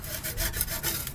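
A small paint scraper scrapes old stuck gasket material off a car's exhaust manifold in short, rhythmic rasping strokes, about four passes in quick succession, close and moderately loud with no talk.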